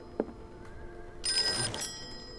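A telephone in a detective's office in the horror game Call of Cthulhu gives one short, bright ring burst after a quiet stretch with a faint click.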